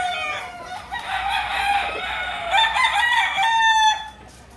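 A rooster crows in a long, loud call, with harmonic cries rising and falling over several seconds close to the listener; no one speaks.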